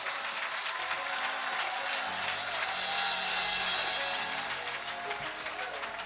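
Church congregation at a prayer cell inauguration in Paris, applauding and cheering for Jesus with sustained, dense clapping that swells briefly and then eases off, with voices mixed in.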